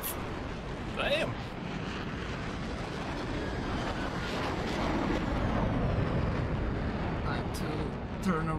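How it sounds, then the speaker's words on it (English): An airplane in a video game drones with a continuous rumbling engine roar that swells slightly toward the middle, while a short voice cuts in near the start. "I don't like the way this plane behaves."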